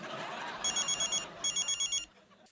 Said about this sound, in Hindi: कोई को फोन आ गया